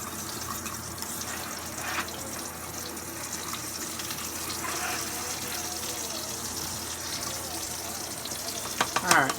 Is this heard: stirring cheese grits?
yes